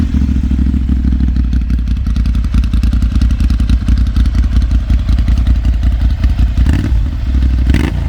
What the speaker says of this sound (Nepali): यसको बाइकको साउन्ड पनि सुनौँ न त है